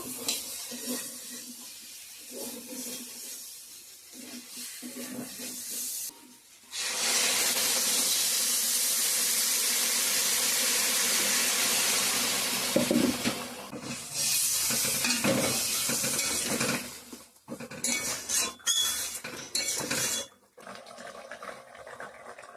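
Water poured into a pan of fried Bengali spice paste (ground and powdered spices) bursts into a loud, sustained sizzle and steaming hiss, after quieter stirring and scraping; the hiss continues for several seconds before easing into intermittent bubbling and stirring.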